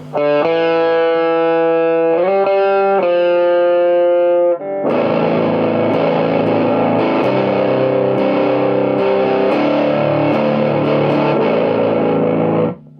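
An electric guitar through a Traynor Darkhorse tube amp plays loud, heavily distorted chords that ring out and sustain, first a few held notes, then a thick, gritty wash.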